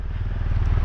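A motorcycle engine idles as it warms up, giving a close, loud, low throbbing rumble with an even pulse for just under a second.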